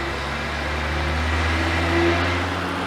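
A BMW E30 325i engine holds a steady, loud mid-pitched rev with a constant droning hum, rising slightly near the end, with no voices over it.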